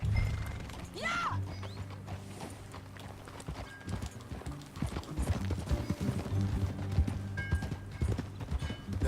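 Steady clip-clop of horse hooves in Red Dead Redemption 2, a continuous close rhythmic trot running throughout, with a brief whinny near the start and faint creaking tack.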